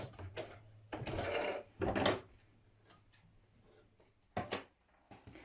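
A sewing machine stitches down a pleat on a skirt in a few short, whirring bursts separated by pauses and faint handling clicks, close and quiet.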